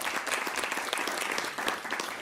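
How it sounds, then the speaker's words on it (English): A conference audience gives a panel on the future of Carnaval San Francisco a burst of dense, continuous applause, steady and fairly close throughout, with no speech over it. "An applause for our panel."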